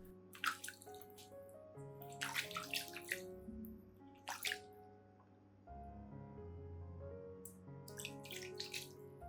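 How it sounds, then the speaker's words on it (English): Clean water from a tap splashes in short bursts over pruned orchid roots and stem, with trickling and dripping between pours over soft background music. "rinse the entire plant system with clean water"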